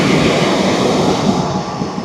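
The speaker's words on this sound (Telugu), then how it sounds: "ఒక ట్రైన్ వస్తూ ఉంది, వేరే ట్రైను." Steady, loud rumble of a train arriving at a railway station, a broad continuous roar with faint rattling and no voices.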